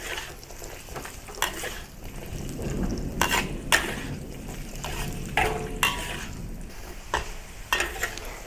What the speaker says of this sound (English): And fry it for a little while.